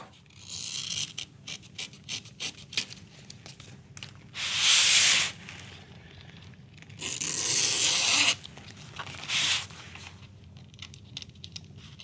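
Excess canvas edges are trimmed from a stretched canvas with a run of small snips and rustles, broken by three longer, louder rasping cuts, close by and with no talk.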